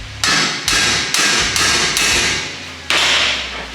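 Repeated loud hammer blows strike a steering knuckle during a CV axle replacement on a Nissan NP300, about six sharp metallic hits in under four seconds, close and with no talking.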